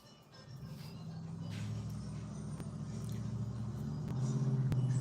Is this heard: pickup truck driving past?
yes